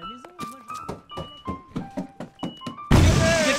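A C4 charge detonates in the stealth heist game Monaco, a sudden loud broadband blast near the end, preceded by a string of quick thudding hits and tonal game effects.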